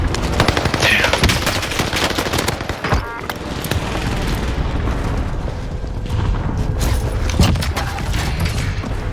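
Dense bursts of video-game gunfire crackle loudly, with rapid automatic volleys and heavy booms overlapping throughout and no voices heard.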